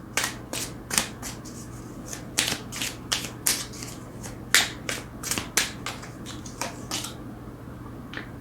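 Tarot cards being shuffled and drawn produce a run of sharp, crisp snaps and riffles, about fifteen distinct bursts in an uneven rhythm, heard up close over a steady low hum with no talking.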